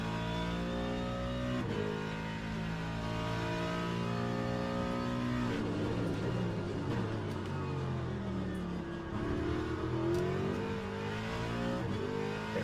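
A race car engine in the Le Mans Ultimate sim revs and accelerates at full throttle through the gears, with harmonic engine tones rising, dropping at shifts and climbing again, steady and close.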